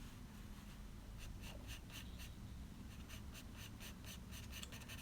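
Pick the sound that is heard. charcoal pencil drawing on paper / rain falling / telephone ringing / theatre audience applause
charcoal pencil drawing on paper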